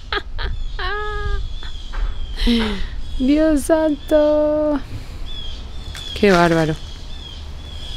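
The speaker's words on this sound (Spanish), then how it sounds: "Uy, están los pájaros revolucionados" Agitated crows caw repeatedly outdoors at a building renovation site, loud harsh calls in irregular bursts, with a person speaking in between.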